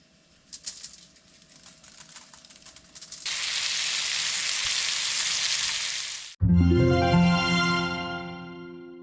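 Ribeye steaks seasoned with fish head seasoning hit a hot griddle with a sudden loud sizzle that hisses steadily, following a stretch of quieter broadband frying hiss and a few light clicks.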